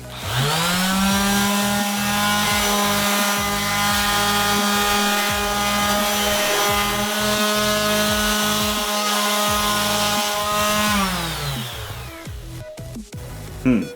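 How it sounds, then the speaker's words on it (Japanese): A machine sands the corners of a small wooden sandpaper holder, giving a loud, steady motorized whine with a grinding rasp that runs unbroken for about eleven seconds, then winds down and stops. "ここちょっともうちょっと持ちやすいように角を落としてサンディングします"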